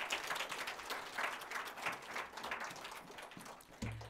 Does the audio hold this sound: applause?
yes